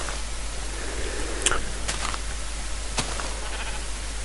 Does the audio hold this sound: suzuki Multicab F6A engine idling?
no